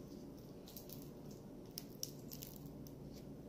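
Sticky homemade slime of glue, activator, baking soda and water being handled close up, giving soft continuous squishing with a few sharper wet pops, no talking.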